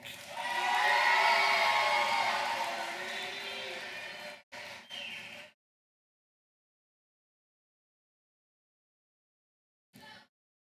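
An 8th grade promotion crowd applauds and cheers for the graduating class, a loud sustained burst of clapping and shouts that swells then fades and cuts off abruptly, with a brief bit of noise afterward.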